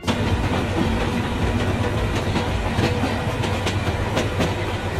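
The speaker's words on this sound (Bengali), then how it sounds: "এটি একটি বাংলাদেশি ট্রেন সিমুলেটর গেম" A train runs in a Bangladeshi train simulator game, a steady rumbling roll with faint clickety-clack of wheels on rails, continuous and fairly loud throughout with no talking.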